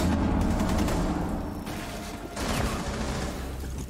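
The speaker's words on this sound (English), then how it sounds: "No, stop shooting me," Sustained rapid gunfire in the tactical shooter Rainbow Six Siege, dense overlapping bursts that stay loud and close throughout.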